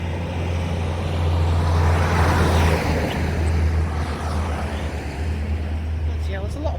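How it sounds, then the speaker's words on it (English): Road traffic rolls past a cyclist, a steady low roar of cars and trucks with one vehicle swelling louder and fading as it passes, continuous and fairly near. "there's a lot of traffic now coming up here."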